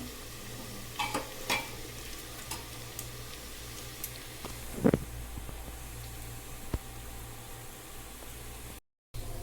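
Onions fry in a pan for a Sunday mutton curry, giving a steady hiss of sizzling oil with occasional sharp taps and scrapes of stirring against the pan, close and without speech.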